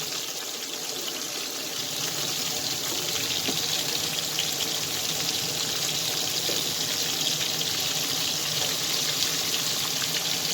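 Halibut frying in hot oil in a cast iron pan, a continuous dense sizzle that holds steady and close throughout with no talking.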